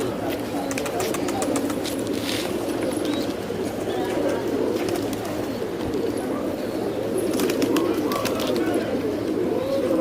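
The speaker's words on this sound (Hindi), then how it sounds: "ये तारिक भाई के उड़ते हुए कबूतर हैं" Flying Rajasthani pigeons of the Bajre, Kalsire and Gehre breeds call and coo steadily through a dense, continuous bed of outdoor noise, with some faint higher chirps now and then.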